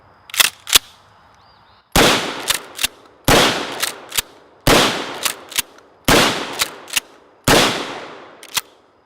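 A Mossberg Shockwave shotgun firing 00 buckshot: loud sharp blasts in close groups of two to four, each followed by a short ringing decay, with brief pauses between groups.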